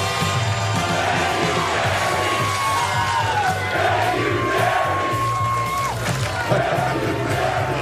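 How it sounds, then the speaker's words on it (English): Green Bay Packers fans in a packed football stadium chanting in unison, a loud, dense crowd roar with rising and falling shouted cheers and whoops over steady background noise. "Packers, the Cheeseheads there chanting, "Thank you, Jerry," for Micah Parsons."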